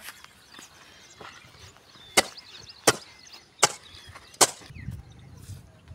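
A tool digs a planting hole in hard, stony ground, landing four sharp, evenly spaced strikes about a second apart, with fainter scrapes and taps around them, close and with no talking.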